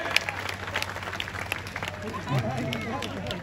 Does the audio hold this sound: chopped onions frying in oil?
no